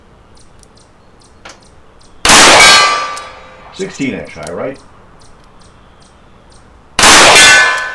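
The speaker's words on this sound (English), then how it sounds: "All right, go for the gong." Revolver rounds from a Smith & Wesson Model 19 strike a steel gong, making two loud ringing clangs that decay slowly. Someone speaks briefly between the hits.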